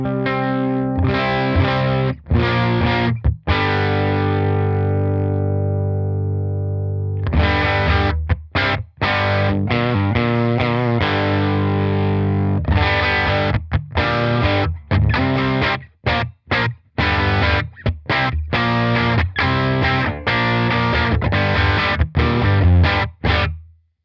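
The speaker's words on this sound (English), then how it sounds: "let's try to push just a bit more this clean channel to listen if this clean channel can crunch" Electric guitar played through the clean channel of a Blackstar St James EL34 2-watt valve amp pushed into crunch, loud and close, with chopped chords and riffs broken by brief pauses and no voices.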